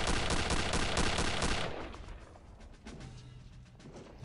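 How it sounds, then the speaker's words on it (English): Rapid automatic gunfire in the video game Return to Castle Wolfenstein rattles loudly for about a second and a half, then gives way to quieter scattered game sounds and faint distant shots. "I shall shoot your shiny helmet off."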